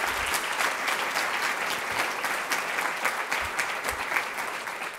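Sustained audience applause at a political candidate training keynote, a dense field of clapping from a large crowd, steady and fairly loud throughout with no talk over it.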